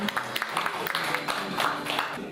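An audience applauding at a Korean award ceremony, a dense and steady patter of many hands clapping for a short stretch, with a voice faintly underneath.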